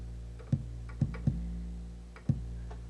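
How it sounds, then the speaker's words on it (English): An 808 kick drum bass in beat-making software, four soft booming thumps at uneven intervals over a sustained low bass hum, close and alone. "The other kick is an 808"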